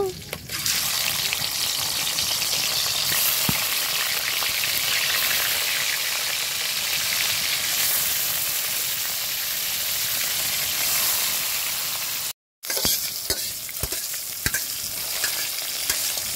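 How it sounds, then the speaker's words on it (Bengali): Fish fries in hot oil in a wok, a loud continuous hissing sizzle that runs almost unbroken, with a brief cut and a few clicks of utensils near the end. "আমি কড়াইয়ের মধ্যে তেল দিয়ে দিচ্ছি মাছ ভাজবো"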